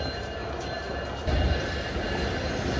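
Rolling train rumble at Kamalapur railway station in Dhaka, a low, continuous drone with a brief heavier surge partway through, heard at moderate level inside the station, with no clear talk.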